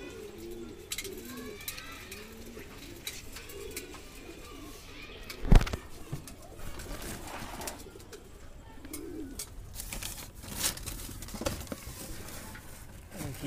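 Soft, low cooing of Madrasi pigeons at close range, repeated throughout with light fluttering and shuffling noises and one sharp knock partway through.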